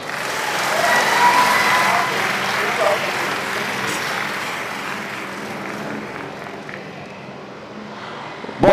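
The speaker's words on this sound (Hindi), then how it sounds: "वंदना सिद्धार्थ जी के लिए जोरदार तालियां" Loud, sustained applause from an audience honoring poet Vandana Siddharth at a poetry event in Delhi, a dense wash of clapping that swells early and slowly tapers toward the end.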